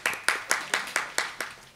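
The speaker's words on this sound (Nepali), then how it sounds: "उहाँलाई पनि जोरदार ताली" Six or seven sharp, evenly spaced claps from a few pairs of hands at a charity handover gathering, close and moderately quiet, in a steady rhythm with no voices over them.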